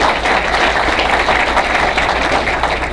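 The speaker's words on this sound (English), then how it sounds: "give Mark a huge round of applause for that" A large audience at a live business presentation gives loud, dense applause that rolls on without a break, close and full.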